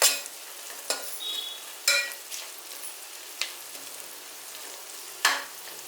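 Onions stirred with turmeric and coriander-cumin powder in a pan, a utensil scraping and clacking against the metal every second or so over a faint, steady sizzle, close and fairly quiet.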